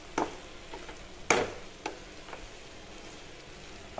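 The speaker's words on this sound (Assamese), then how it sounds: "লৰাই দিছোঁ" A high-protein vegetable curry is stirred in a pan, with a few sharp scrapes and taps against the metal spaced out over a quiet, faint background, and no talk.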